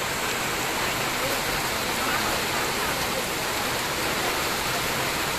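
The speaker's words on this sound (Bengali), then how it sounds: "দেখেন প্রচুর বৃষ্টি, প্রচুর" A downpour of heavy rain roars steadily and loudly, a thick, unbroken wash of falling water that never lets up, with no voices.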